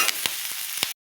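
Vegetables for fried rice sizzle and hiss steadily in a hot pan, with a few sharper stirring scrapes, up close and loud before cutting off abruptly into silence near the end.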